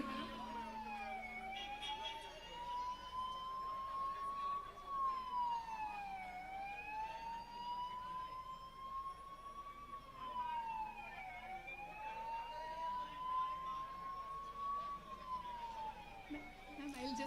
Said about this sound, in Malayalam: another ambulance is coming